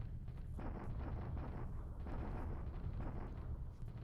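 Continuous rumbling artillery bombardment in the War in the Pacific strategy game, a dense, steady barrage of overlapping booms and bursts at even loudness throughout, with no voices.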